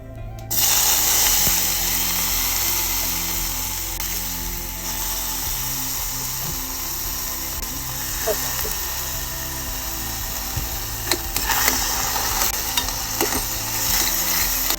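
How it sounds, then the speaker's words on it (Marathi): Rice sizzles and crackles while roasting in hot ghee for khichdi, with scraping stirring sounds and someone talking over it. "थोडंसं जरा जरा तुपात भाजलं की त्याच्यात टाकायचे तांदूळ"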